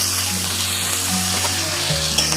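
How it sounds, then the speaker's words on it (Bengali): Bhola fish sizzles steadily in a hot pan with green chili and chopped ginger, a close, continuous frying hiss with occasional stirring scrapes and no talk. "সবটা দিয়ে ভালো করে এটাকে কষিয়ে দেবো"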